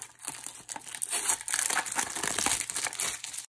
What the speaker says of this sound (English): let's open up the tape and have a look